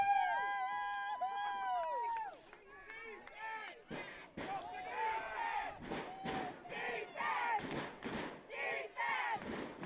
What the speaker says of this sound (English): The Sidney crowd's getting riled up here.